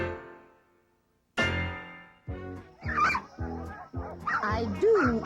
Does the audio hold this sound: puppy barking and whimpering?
yes